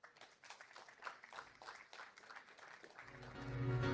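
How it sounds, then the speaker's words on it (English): A crowd at an award ceremony for trading platforms at WikiEXPO 2025 claps for the winner in a faint, dense patter, and a louder sustained sound swells in over the last second. "Let's give InstaExchange a big round of applause."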